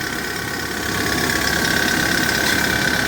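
A ten-year-old Kia Bongo III King Box diesel truck with manual transmission idles steadily, heard up close in the engine bay, its even knocking rumble growing slightly louder partway through.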